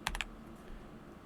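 Three quick, crisp keystrokes clatter on a computer keyboard in rapid succession, fairly faint, followed by a low room hush.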